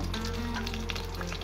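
Katla fish frying in hot oil in a pan over low heat, a steady close sizzle with faint stirring, no voices.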